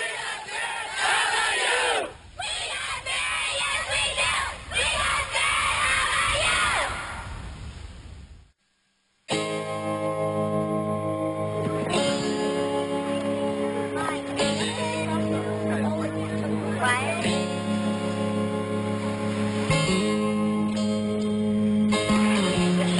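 A large crowd of summer camp kids at an opening campfire screams, cheers and yells in loud sustained bursts, breaking off briefly for a moment of silence before erupting again into raucous chanting.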